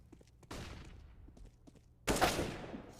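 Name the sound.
AK rifle gunfire in video game Counter-Strike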